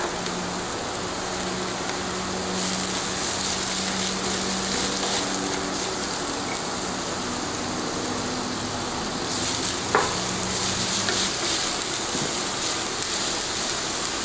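Carrot, peppers and onion sautéing in a pan, a steady, close hiss and crackle of frying that runs throughout with a few faint clinks of stirring, no talking.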